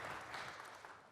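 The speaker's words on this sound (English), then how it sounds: "Give yourselves a round of applause for just being with us today" Audience applause at a community foundation's annual report event, a dense, even patter of many hands clapping that stays steady, soft and somewhat distant throughout.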